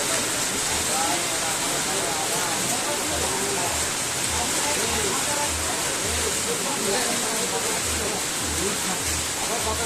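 Steady rain falls outdoors near a field where a sound system setup is being tied up, a dense, even hiss that continues without pause, with a low rhythmic thumping faintly underneath.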